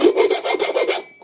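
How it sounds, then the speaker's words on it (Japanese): A hand file rasps burrs off a stainless steel part from a 100-yen shop, about seven quick, loud back-and-forth strokes in close succession, heard alone and close up. "こんな感じでヤスリがけ、して仕上げたいと思います。"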